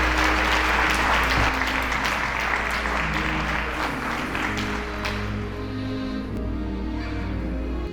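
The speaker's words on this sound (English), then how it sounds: "Let's give them a big round of applause." Crowd applause at an outdoor Memorial Day ceremony, a dense, steady wash of clapping from many people lasting throughout and easing slightly toward the end, with a low hum running underneath.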